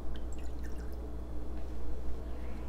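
Distilled water trickles and drips into a heat-safe container, a quiet, close pouring sound lasting only a few seconds.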